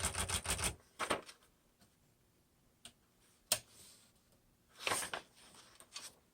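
A Smith Corona Galaxie Deluxe 12 manual typewriter is typed on up close: quick bursts of sharp key clacks and type bar strikes, separated by pauses and single clicks.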